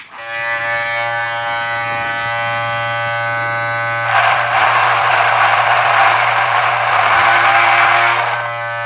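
A Moser 1400 cordless hair clipper fitted with a brushless motor runs close and loud with a steady buzzing hum, its tone growing rougher and brighter about halfway through.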